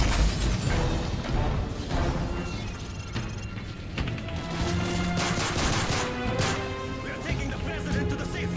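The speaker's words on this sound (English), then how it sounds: "We need backup! Gunfire!" Dense, loud gunfire and explosions crackle and boom continuously amid chaotic game noise in Call of Duty: Modern Warfare 3, shots overlapping with no pause.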